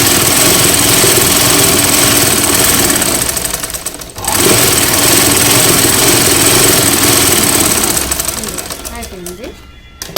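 A sewing machine runs steadily while stitching along a blouse belt piece, a continuous close mechanical whir that drops out briefly midway and slows near the end, with a voice talking over it.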